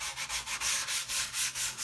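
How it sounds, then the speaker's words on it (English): Steady back-and-forth sanding strokes, about eight even rubs of sandpaper on a hard sanding block over a wooden guitar body, close and clear with no voices. "What I'm going to do is just lightly sand the surface."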